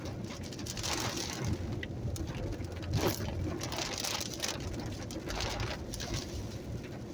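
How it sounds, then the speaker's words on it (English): Steady rain falls outdoors near a river bridge, a dense continuous patter with pigeons or doves cooing faintly in the background. "Ooh, that rain's coming down now."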